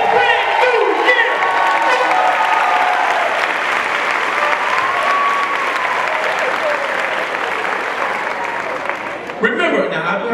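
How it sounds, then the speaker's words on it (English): A large audience claps in a sustained round of applause at a new-year gathering, loud and dense with some cheering mixed in, tapering slightly before a brief burst at the end. "Now let's give yourselves a round of applause for this brand new year."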